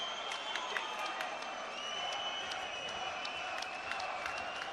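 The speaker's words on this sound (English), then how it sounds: "Everybody standing and applauding." Boxing crowd at the Frank Buglioni vs Lee Markham fight, on its feet applauding and cheering after the final bell; a steady, fairly distant wash of clapping and crowd noise with scattered louder claps, carrying through the whole stretch.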